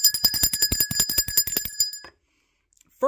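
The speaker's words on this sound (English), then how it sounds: "Let's ring the bell for that." A bright bell rings rapidly in a steady trill for about two seconds, then stops abruptly, leaving silence before a brief noise at the end.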